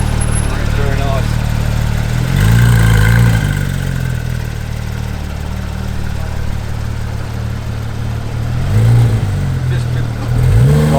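Large red Porsche GT3 pulling out at a Porsche and coffee meet, its engine revving in a few rising bursts over a steady loud rumble, with crowd chatter in the background.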